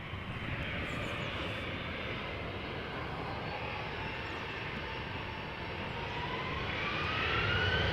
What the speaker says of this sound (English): next up, Boeing 737-800 going to Venezia